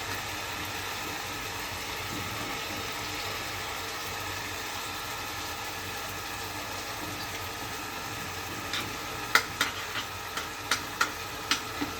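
Potato and egg frying with spices in a pan, a steady low sizzle that runs on, then a string of sharp spatula taps and scrapes near the end.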